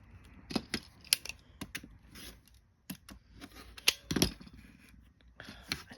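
Quilt block fabric being trimmed, giving a quiet, close series of sharp snips and clicks at an irregular pace with short pauses between cuts.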